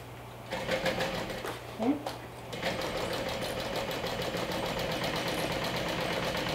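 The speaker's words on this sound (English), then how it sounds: "let's stitch with 1/4 of an inch seam allowance" A sewing machine stitches a quarter-inch seam on a bag's front pocket and exterior, running in a steady fast whirring rhythm close by after a few brief stops, with a short spoken word near the start.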